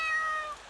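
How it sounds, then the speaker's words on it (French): A cat meows once in the video game Ao Oni, a short, clear, tonal cry heard alone and fairly close. "Un chat."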